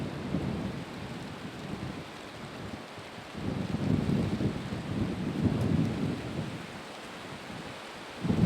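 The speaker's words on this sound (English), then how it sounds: "And eventually the rain shows up," Rain and rolling thunder during a turkey hunt outdoors, with a low rumble swelling and fading in long waves over a steady hiss of rain and some wind buffeting the microphone.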